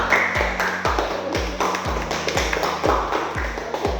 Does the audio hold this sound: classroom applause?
yes